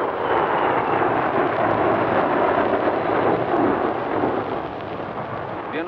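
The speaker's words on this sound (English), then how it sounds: "The turbojet missile carriers." Turbojet missile carrier aircraft pass overhead at an air show, a broad, continuous jet roar rumbling steadily and loudly throughout before easing a little at the end.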